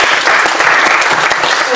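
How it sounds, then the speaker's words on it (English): Audience applause at a wildlife conservation technology talk, a dense steady wash of clapping from a crowd, loud and close throughout the brief burst. "So I think they deserve a round of applause."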